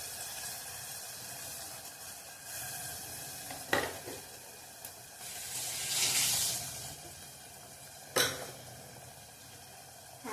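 Chhole masala gravy fries in oil in a pan, giving a soft, steady sizzle with occasional sharp clinks of a spoon or spatula against the pan and a brief louder hiss of stirring in the middle.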